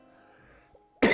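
A single loud, harsh cough from someone with a lingering bad cough bursts out at the very end, after a second of quiet low room hum.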